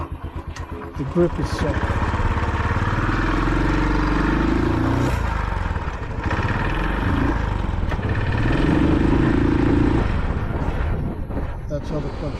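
A repaired motorcycle's engine runs steadily throughout, a continuous low drone with a slight rise and fall in revs, heard close under talking.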